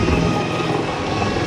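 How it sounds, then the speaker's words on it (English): A helicopter idles or hovers at a nearby helipad in Menchuka, a loud, close, continuous rotor and engine roar filling the whole moment. "I've not seen a helicopter this close in my life."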